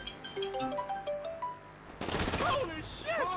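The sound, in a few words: gunfire from GTA Online video game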